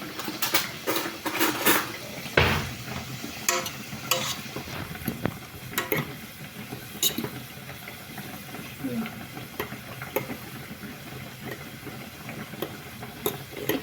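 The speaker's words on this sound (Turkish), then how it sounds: "Bir taraftan da şöyle kuru fasulyemin etini kavuruyorum arkadaşlar." Meat for a dry bean stew browns in a pot while being stirred, with soft sizzling under frequent scraping and clattering of a spoon against metal, a louder knock near the start.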